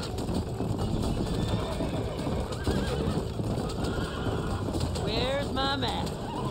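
A horse gallops with rapid clip-clop hoofbeats and lets out a sharp whinny near the end during wagon riding in the video game Red Dead Redemption, with speech heard over the action.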